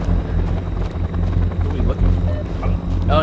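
A helicopter thrums steadily and loudly close by, its rotor chop continuous throughout while people talk over it.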